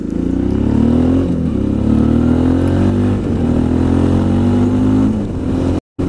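Suzuki DL650 V-Strom motorcycle with an aftermarket exhaust pipe, baffle still fitted, revving repeatedly, loud and close, its deep throaty note rising and falling in several pulls before cutting off briefly near the end.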